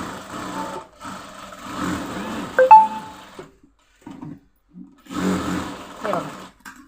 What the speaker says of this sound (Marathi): हे असं शिवून घ्यायचं अस्तर सकट